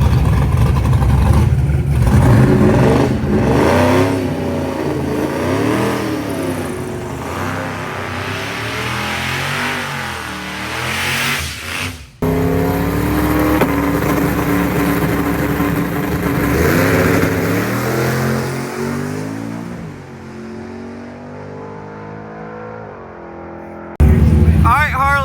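Full-throttle run of a 7-second drag car on a strip, engine roaring loud and close with rising revs, a brief cut near the midpoint, then a second hard pull; talking is heard around it.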